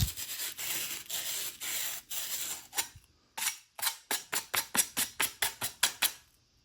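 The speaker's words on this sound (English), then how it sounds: "let's go ahead and sand on the rest" Sandpaper rubs the inside of a bicycle fork on a Specialized Tarmac SL8 build, first in steady scratchy strokes, then in a quick run of short rhythmic rasps, close and alone.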